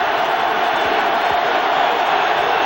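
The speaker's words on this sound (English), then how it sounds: "Crowd starting to come up at that end of the field now, making more noise." Football stadium crowd at a 1994 Colorado versus Nebraska game, a dense, continuous roar of many voices filling the air, swelling as fans at one end of the field grow noisier.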